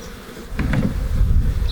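Honeybees swarming inside a garage wall give off a steady, dense buzzing drone that swells louder after the first half second and holds close and full. No voices are heard.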